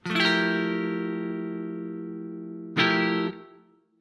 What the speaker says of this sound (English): so if we try a major 11 chord